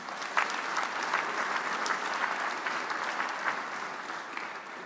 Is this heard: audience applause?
yes